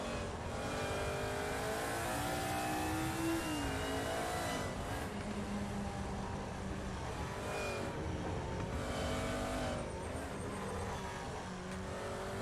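Turbocharged Nissan DR30 engine in a racing game at Sandown, revving hard and continuously with pitch rising and dropping through gear changes, loud and close with no voices.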